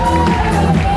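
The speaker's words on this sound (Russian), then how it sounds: "Ваши аплодисменты." A KVN final audience cheers and applauds in a loud, dense burst of crowd noise and shouts, filling about a second.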